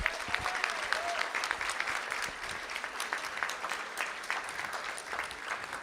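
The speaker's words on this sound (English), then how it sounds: "Let's give them a nice round of applause." Steady, dense applause from an audience at a school district board meeting, honouring state art qualifiers; the clapping stays fairly even and moderately loud throughout, with a faint crowd murmur beneath.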